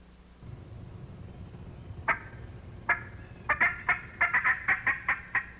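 An American wild turkey gobbles: several sharp, rattling gobbles, first spaced apart and then in a quick run of bursts, heard at moderate distance over faint outdoor background noise.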